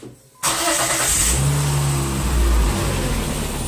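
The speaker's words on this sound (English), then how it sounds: "so we'll go in there and start it up" After a brief quiet moment, a car engine with a 2.0 SOHC head and new valves, repaired after a broken timing belt, cranks and catches abruptly, settling into a loud, steady run nearby.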